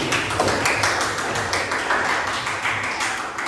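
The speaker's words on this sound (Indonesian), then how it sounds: "Kasih tepuk tangan dulu untuk Sofi." Classroom applause for a student named Sofi, a group of pupils clapping together at a steady, fairly loud level for a few seconds without talk.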